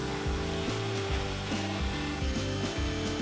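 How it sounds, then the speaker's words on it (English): A drill press bores holes through steel C-channel, giving a steady grinding, rasping whir with pulsing, repeated pitch sweeps as the bit cuts, loud and close with no voices. "using the drill press here to cut some holes in the C-channel"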